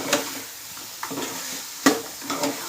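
A spoon scrapes and stirs ingredients frying in a pan with a little coarse salt, giving a few distinct knocks and scrapes over a soft continuous sizzle, close and without talking.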